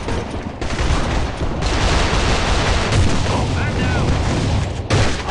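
Gel blaster shots from a P226 pistol ring out over a loud, dense, rumbling backdrop of booming fire that runs almost without a break, and a couple of separate sharper hits stand out.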